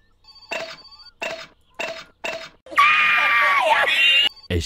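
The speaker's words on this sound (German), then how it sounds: "wir gehen ganz kurz ans Telefon" An in-game telephone in My Summer Car rings in four evenly spaced electronic bursts, fairly loud and close, followed by a sustained harsh, wavering tone and a final short blip.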